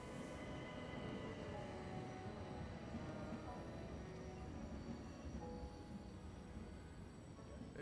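Train rumbling along on the Orient Express, a continuous close roar of wheels on rails with faint squealing tones running over it.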